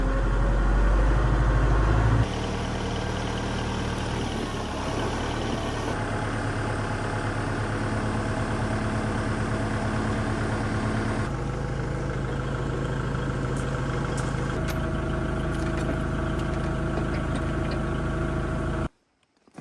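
A tractor engine runs steadily with the throttle raised and the rear PTO spinning, a loud, close, continuous drone whose pitch steps up partway through before cutting off at the end.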